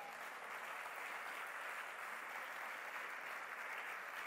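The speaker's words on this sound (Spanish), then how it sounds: "¿Cuántos pueden aplaudir al Señor?" Sustained applause from a church congregation, an even wash of clapping that continues without a break, moderately distant and with no speech over it.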